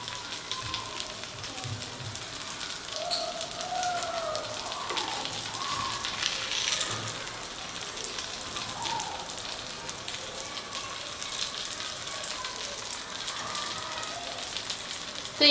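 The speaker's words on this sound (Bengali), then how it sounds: "তো উল্টে পাল্টে সমস্ত দিকগুলোকে ভেজে নিয়েছি।" Paneer pieces sizzling as they fry in a pan, a steady crackling hiss with faint spattering that runs evenly throughout, with no talking.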